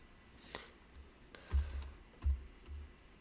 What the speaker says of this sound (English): I'm trying to use the keyboard around my microphone unsuccessfully, as you can see